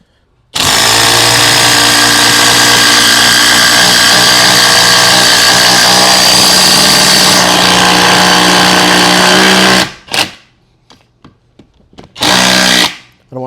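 A Ridgid power tool drives a 5-inch lag bolt during tool testing, a loud, steady whirring run of about nine seconds that stops abruptly, followed by two shorter bursts of the tool after a brief pause.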